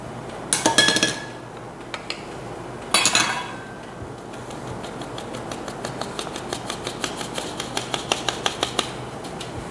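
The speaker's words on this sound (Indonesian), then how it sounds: "Ini kemudian kita saring tepung protein rendah ya, sama baking powder." Low-protein flour and baking powder are sifted through a metal sieve, with two bursts of shaking followed by a long run of quick, regular taps against the rim, close and clear with no voices.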